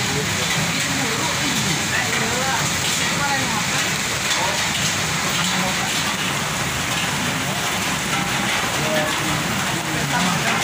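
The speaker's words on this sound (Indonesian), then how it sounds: "Pas lagi hujan lagi nih" Rain pours steadily at a food market in Cipanas, a dense continuous hiss at high level running throughout without pause.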